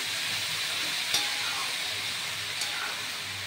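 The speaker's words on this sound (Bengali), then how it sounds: "নেড়ে চেড়ে কষিয়ে নেব, খুব সুন্দর করে কষিয়ে নেব।" Banana flower being stirred and fried in a pan, a steady close sizzle with soft scraping stirs and a couple of brief clinks, no talking.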